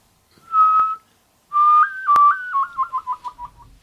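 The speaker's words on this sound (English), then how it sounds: "I swear I could hear two different whistles." A person whistles alone and clearly: one sustained note, then a longer tone that steps upward and breaks into a quick falling series of short chirps.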